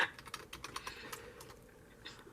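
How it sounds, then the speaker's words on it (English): Someone types on a computer keyboard in the background, a fast run of crisp key clicks that thins out toward the end. "Travis in the background typing out Danny DeVito online"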